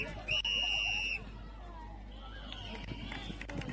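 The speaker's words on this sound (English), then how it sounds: "that is the whistle to conclude the first quarter of this game." A netball umpire's whistle ends the first quarter at a school championship court, one loud sustained blast of about a second over crowd noise and court footsteps, followed by a fainter, shorter tone.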